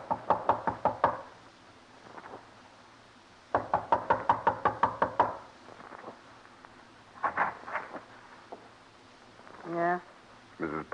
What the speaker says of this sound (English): Knock. You better stand back.